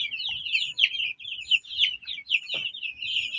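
Young broiler chicks on a farm, a dense continuous chorus of high peeping calls, close and steady, with a brief lower cluck partway through.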